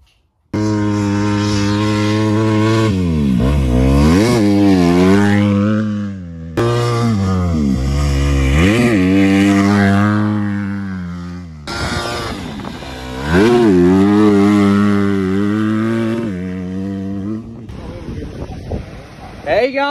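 A Yamaha YZ125 motorcycle revs hard near the Sydney Harbour Bridge. There are three long, loud bursts of rising and falling engine pitch, separated by short breaks, with wind buffeting underneath.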